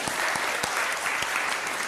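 Steady, dense applause from an audience at a spoken talk, continuous clapping filling the whole short stretch with no voices over it.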